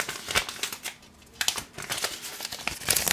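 A knife from Case is unwrapped from its crinkly tissue paper, with close, continuous crumpling and rustling and a brief quieter pause midway before the crackling resumes.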